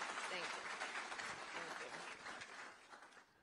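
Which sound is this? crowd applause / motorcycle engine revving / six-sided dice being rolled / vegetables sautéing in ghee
crowd applause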